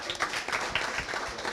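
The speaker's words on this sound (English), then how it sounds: "give him a round of applause" Audience applause in a primary school courtyard forum, a steady patter of clapping from a modest crowd lasting throughout, moderately loud and close.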